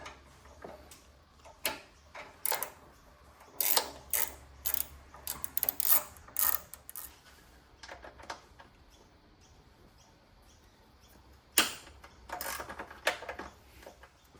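A socket ratchet clicks in quick bursts as parts are unbolted in the engine bay of a Subaru WRX near the turbo inlet, with irregular close clacks and short pauses between runs.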